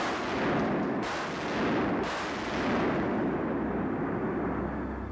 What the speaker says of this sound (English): forces stepped up artillery bombardments of Iraqi positions